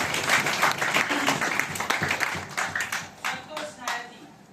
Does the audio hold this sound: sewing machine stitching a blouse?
no